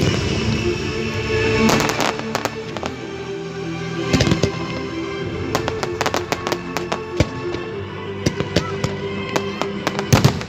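Fireworks explode across the sky at New Year in Cameroun, with many sharp bangs and crackling bursts coming at irregular intervals, loud and fairly near, with faint voices underneath.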